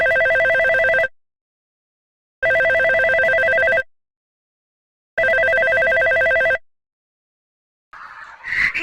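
Telephone rings in a dramatized stage or radio play setting, three loud, evenly spaced bursts with silent gaps between them, then a brief muffled rustle at the end.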